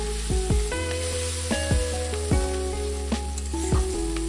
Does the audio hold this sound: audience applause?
no